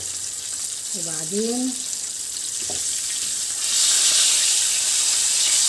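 Tilapia fillets fry in hot oil with a steady hiss that swells louder in the second half, while someone briefly speaks early on.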